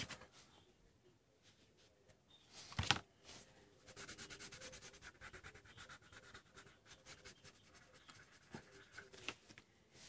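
A blender pencil works colored pencil on paper, producing faint, close scratchy rubbing strokes in quick repeated bursts, with one louder scrape partway through.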